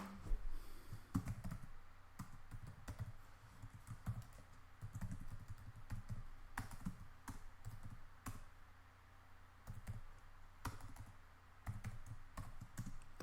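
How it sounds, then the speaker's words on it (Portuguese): A computer keyboard being typed on steadily while an address is entered, producing dense, fast, uneven clicking of keys, close and quiet. "digitei ali endereço"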